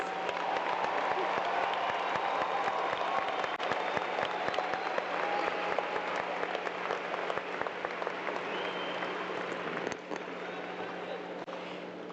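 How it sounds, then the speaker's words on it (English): A commencement crowd applauds the graduating class with sustained, dense clapping from a large audience, loud and steady throughout, easing slightly near the end. "Please give yourselves a round of applause."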